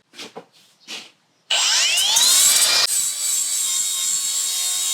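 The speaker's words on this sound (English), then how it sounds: "This is a lot of mill scale on there that I need to grind off so I can get fresh bare metal." Angle grinder taking mill scale off steel stock for a Jeep Wrangler TJ roof rack, a few soft clunks, then a loud sustained whine that spins up, bites into the metal and settles to a steady high drone.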